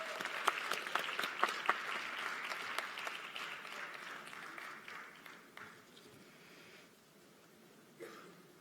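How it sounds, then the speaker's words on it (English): Applause at an awards ceremony, steady clapping from an audience that holds for several seconds and then fades away, with a few sharper claps near the start. "Clap for her."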